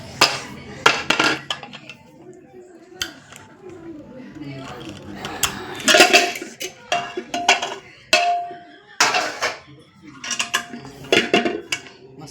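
Metal lid of a home pressure cooker lifted off after cooking masoor, several clanks and a scrape of metal on metal in a kitchen, mixed with a voice talking.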